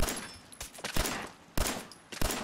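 Gunfire in the video game Fallout 4, several sharp bursts and single shots cracking out at irregular intervals, loud and close, with no speech over them.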